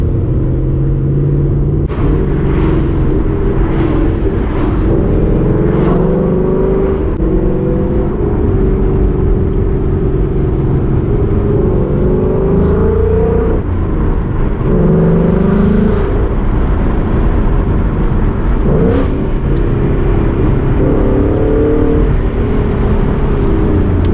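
A 2019 Ford Mustang GT fitted with a Corsa Extreme exhaust drives through mountain canyons, its engine roaring loud and continuous with rising and falling revs under steady road rumble.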